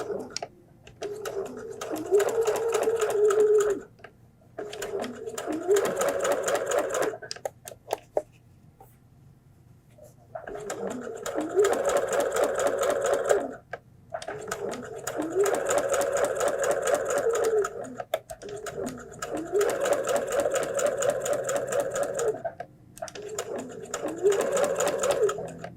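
A sewing machine stitches a fabric flu mask in several bursts of rapid, rhythmic whirring, with short pauses and pitch shifts as the speed changes. The machine is close and clear, and no one speaks.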